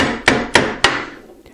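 A hammer taps three times in an even rhythm, loud and close, against the metal back of a bent backsaw being knocked loose, each strike ringing briefly before the next.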